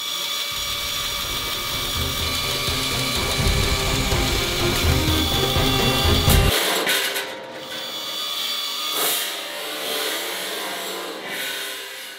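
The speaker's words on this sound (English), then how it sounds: "we'll clean them up on the sanding machine. Belt sander, yay!" A belt sander grinds loudly against wood for several seconds, then shuts off and winds down, leaving lighter scraping and rasping sounds nearby while cleaning up parts for a prop riot shield.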